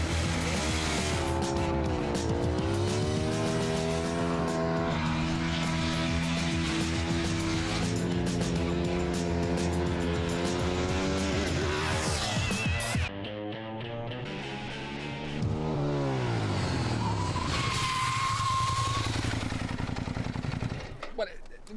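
A racing motorcycle accelerates hard on a track, its high engine note climbing through gear changes, loud and close, then dropping off before another rising run.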